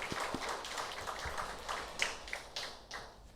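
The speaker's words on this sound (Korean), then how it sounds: "잠깐 자리에서 일어나시면 우리가 축복의 마음을 담아서 환영의 박수 보내드리겠습니다" A church congregation at a Sunday service gives a soft, steady round of welcoming applause, with quiet, continuous clapping that sounds somewhat distant.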